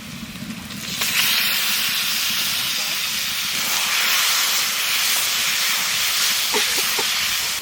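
Onion and garlic fry in a hot pan with a loud, steady sizzling hiss that holds throughout, close up, with a brief faint voice near the start.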